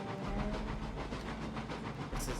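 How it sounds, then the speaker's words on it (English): Locomotive running in Railroads Online, a steady chuffing rumble with regular rhythmic pulses and hiss, moderately loud, ending with a brief bright burst of noise. "Locomotive."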